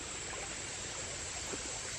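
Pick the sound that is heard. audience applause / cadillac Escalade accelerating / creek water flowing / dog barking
creek water flowing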